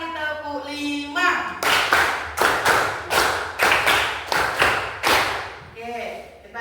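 A class of students in an Indonesian classroom claps a counted rhythm pattern, two sets of sharp group claps followed by five, loud and close, with a teacher's voice at the start and end.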